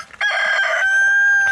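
A rooster crows once, close and loud, near chickens being fed: a short harmonic burst followed by a long, drawn-out sustained note.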